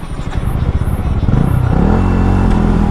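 A KTM Duke motorcycle engine drones loud and close during a ride, with a rough, pulsing low rumble that settles into a steady, higher hum as it picks up speed.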